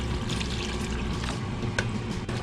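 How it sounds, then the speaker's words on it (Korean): Water pours steadily in a continuous, even trickle over seaweed in a bowl while chilled seaweed soup is being made. It stays close and moderately quiet, with no talking. "물을 좀 붓고"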